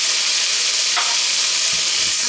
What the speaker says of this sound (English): I'm just going to fry these now for a further few minutes